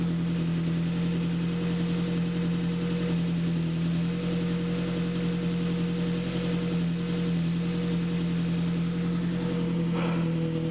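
Ford Focus engine idling steadily after a cold start on a cold day, a constant low hum with a steady tonal drone that continues unbroken at close range, with no voices.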